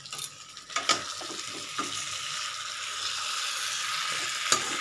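Fried potatoes with spices are stirred in a hot pan for a vegetarian potato curry, a steady close sizzle with a few sharp scrapes and clinks of the spoon against the pan, no talking.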